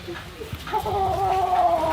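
Desi hens on an animal rescue farm cluck and call in a rising, drawn-out cackle, close by and fairly loud, with soft farmyard rustling underneath.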